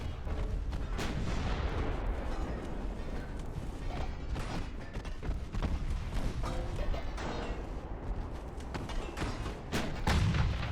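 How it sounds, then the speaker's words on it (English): Naval gunfire in the warship game Ultimate Admiral Dreadnoughts, with dense, repeated heavy booms and cannon blasts rolling over each other in a constant battle din, loud and without talk. "I was hoping by shooting at him maybe it would kind of inspire him to fire at me a little more often."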